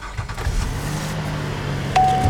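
A 2016 Chevy Impala with a 3.6 V6 starts up: a brief starter crank and the engine catching, followed by a steady, close running hum.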